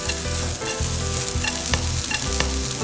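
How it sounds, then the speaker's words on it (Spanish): Onion sautéing in oil in a very hot frying pan, a steady loud sizzle broken by stirring scrapes and clinks, with no talking. "y salteamos la cebolla"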